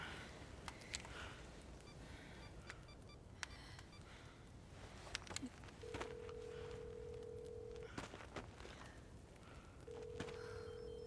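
Phone keypad tones beep in a short series, with two longer steady dial tones sounding apart, over a busy, noisy background of scattered clicks and knocks.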